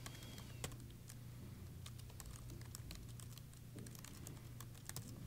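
Typing on a computer keyboard while entering a domain name, a steady run of light, quick key clicks with a few brief pauses, close and fairly quiet over a low background hum.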